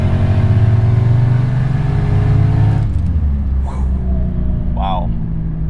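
A big-turbo V8 Jaguar XJ making about 650 horsepower kicks down, its deep, loud engine drone heard from inside the cabin shifting and dropping in pitch as it pulls, with a voice briefly speaking over it.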